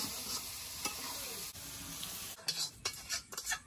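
A sweet, spiced raw-mango pickle is stirred in a pan over a soft sizzle, with a few scraping strokes early on and a quick cluster of spoon scrapes and knocks near the end.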